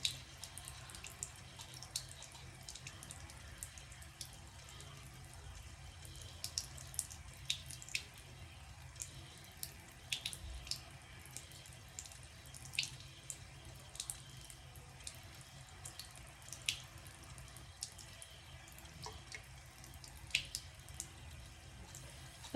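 A tap runs quietly into a sink to dampen a mascara wand, a soft continuous flow broken by small splashes and drips, faint and steady, no talking.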